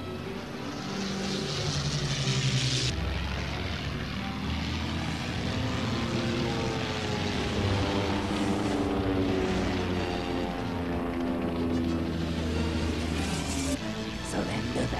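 An old propeller plane engine in an animated series drones loudly and steadily, its pitch sliding and wavering as it flies, with a brief shift early on and no talk over it.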